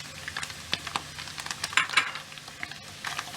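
Garlic, mixed dried herbs and shallots fry in a pan over medium heat, giving a steady soft sizzle broken by several scraping stirs and light utensil taps, close and fairly quiet.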